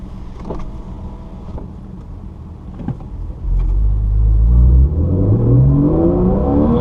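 A Porsche 911 on the Laguna Seca track accelerates hard, engine droning low before swelling into a loud, rising roar, with rev climbs stepping through gear shifts; clicks and cabin rattles sit underneath, close and in-car.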